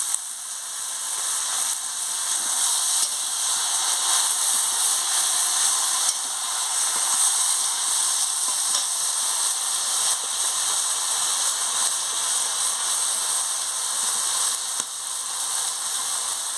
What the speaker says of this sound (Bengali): এবার আমি অল্প একটু জলটা দিয়ে দিচ্ছি।